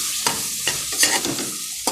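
Masala mixture stirred in a pan, a spoon scraping and turning it with a few sharp scrapes over a steady soft sizzle, close and alone.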